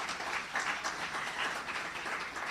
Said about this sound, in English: And we can indeed give them a round of applause.